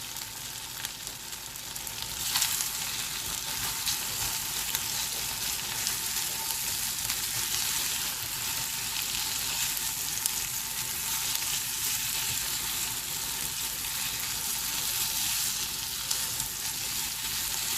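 Black pepper chicken, an Awadhi starter, sizzles and fries steadily in a pan while being stirred, a constant dense hiss with faint scraping throughout and no talking.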